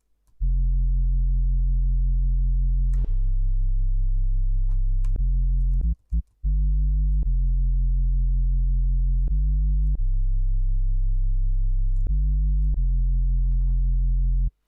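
A fat sub bass synth preset in Ableton Live plays a sequence of deep, sustained sine-like notes that step between pitches, loud and alone, with one brief gap partway through.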